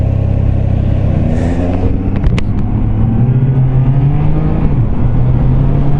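A Triumph Trident 660 motorcycle engine idling and running smoothly, a low continuous rumble close by with slight shifts in pitch, no voices.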